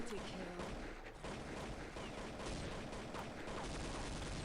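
Rapid gunfire in the video game Counter-Strike: Condition Zero, a dense continuous barrage of shots with game noise, loud and steady for the whole stretch, with no clear talk over it.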